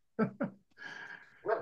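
A house dog gives a couple of quick barks and then a drawn-out whine, close by indoors, with a final bark at the end.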